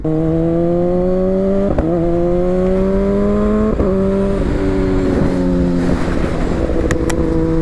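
A Kawasaki ZX-10R sport motorcycle with a full titanium exhaust and quick shifter accelerates hard through several quick upshifts, each gear change a sharp break in its loud, raspy exhaust note.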